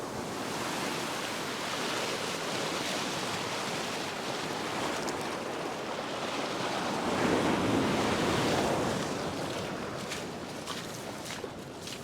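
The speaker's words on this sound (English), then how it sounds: "Those waves are pretty powerful." Powerful ocean waves wash up on a fishing beach in a continuous roaring surf with wind buffeting the microphone, swelling louder midway as a bigger wave rushes in, with no talking.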